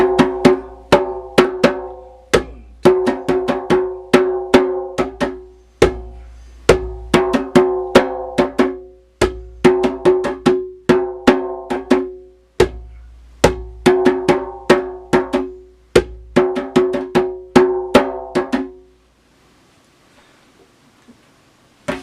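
A taiko drum plays a repeating pattern of deep bass strokes, ringing tones and sharp slaps in quick phrases, close and loud, ending in near silence.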